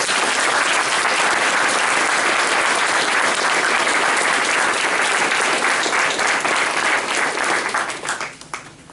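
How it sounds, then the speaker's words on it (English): Sustained, loud applause from a large audience at an Army ordnance battalion AIT graduation ceremony, steady and dense for about eight seconds before tapering off at the end. "please give a well-deserved round of applause for today's graduates"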